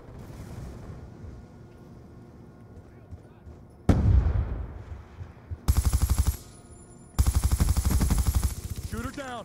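Rapid bursts of gunfire from the Black Ops 2 video game ring out nearby, loud and rhythmic in two long automatic volleys after an earlier heavy blast, with a voice talking at times.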